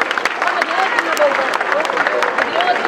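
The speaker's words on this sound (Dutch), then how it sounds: "Geef hem een fantastisch applaus." Crowd applause at a youth U14 football tournament prize ceremony as a club captain steps forward: dense clapping from the audience, with some voices over it.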